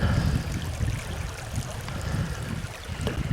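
Water running over rocks in Swine Creek, Ohio, a steady, close rushing wash with low churning and no voices.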